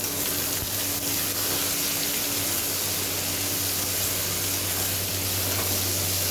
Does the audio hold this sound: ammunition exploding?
no